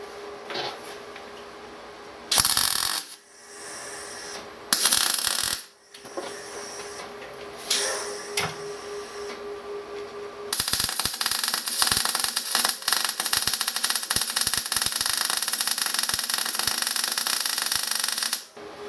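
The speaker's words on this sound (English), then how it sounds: "we'll turn it up and see how we get on welding heavier stuff with 2mm" MIG welding a lap joint on 2mm steel plate with an R-Tech Pro-MIG250 on 0.6mm wire from a 13 amp supply: short bursts of crackling arc separated by pauses, then a long steady loud sizzling run.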